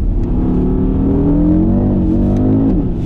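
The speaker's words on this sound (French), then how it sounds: "le moteur, il a un peu plus de linéarité, bien qu'on ait le caractère turbo, et la sonorité est quand même dingue" A turbocharged 2020 Audi RSQ3 Sportback engine revs hard and steadily, a deep throaty roar with rising and falling pitch, loud and close throughout with no talking.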